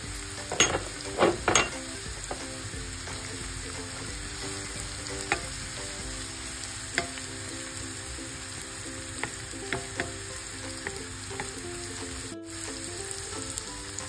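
Diced pancetta with onion sizzling steadily in a frying pan, a dense crackling hiss with occasional stirring clinks, alone without talk.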